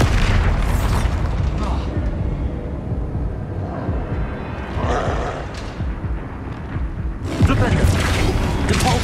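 Booming explosion spells in the wizarding game Hogwarts Legacy go off in heavy blasts, with loud bursts at the start and the end and rumbling debris between them, while a voice speaks over the action.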